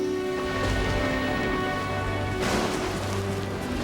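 Heavy rain pours down in a forest as a loud, steady, continuous downpour, with a faint sustained tonal hum beneath it.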